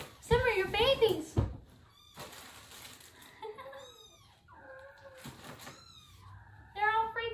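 Kittens meowing in a cattery, several high, wavering cries that overlap and come in bursts, close and fairly loud, with a person talking at the start and between the meows.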